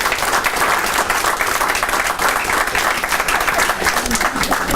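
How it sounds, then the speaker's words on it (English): An audience at a small-town meet-the-candidates event claps steadily for the candidates, a loud, continuous round of applause from a crowd indoors. "So I'd like to give them a round of applause for being willing to come to the town."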